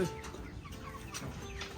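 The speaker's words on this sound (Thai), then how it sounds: "ไก่ดำภูพานอายุประมาณ 3 เดือนครับ มีตัว ผู้ 2 แล้วก็ ตัวเมีย 8" Three-month-old Phu Phan black chickens on a farm cluck softly in short, scattered calls, fairly faint, with a little talking nearby.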